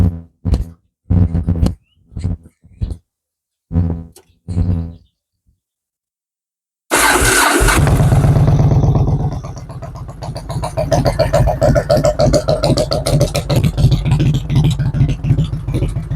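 A motorcycle engine is cranked and catches after a few seconds of quiet, bursting into a loud, close, steady running rumble that holds to the end. Short bits of speech come before the start.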